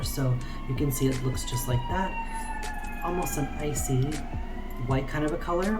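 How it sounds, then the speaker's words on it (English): A siren wails in the background, its rising and falling tones running steadily beneath a person talking close by. "Sorry about the sirens, guys."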